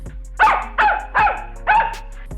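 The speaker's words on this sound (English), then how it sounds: "He barked and barked." A dog barks four times in a row, close and loud, each bark sharp and evenly spaced with brief pauses between.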